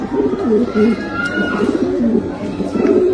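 Rampuri pigeons coo in loud, close, overlapping bursts, a continuous throaty rolling sound with little pause.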